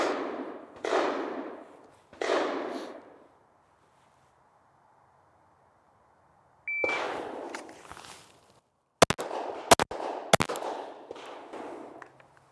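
Three sharp, loud pistol shots fire in quick succession during an FBI pistol qualification drill on a range, preceded by duller bursts of outdoor noise and rumble.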